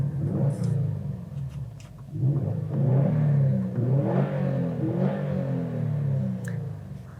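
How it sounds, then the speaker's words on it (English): A 2019 Subaru WRX STI S209 engine with its unique exhaust gives a deep, throaty rumble idling steadily, then swells with a couple of revs before settling back into a low burble, close and loud. "it has that typical Subaru rumble"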